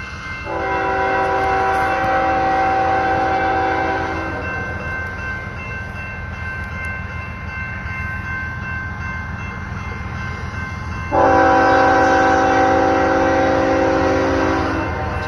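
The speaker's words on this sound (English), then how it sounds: "Here comes the train." Southbound manifest freight train passing the Cherry Ave railroad crossing in Shafter, California, sounding a loud, sustained multi-tone air horn in two long blasts over steady rumbling wheel and engine noise.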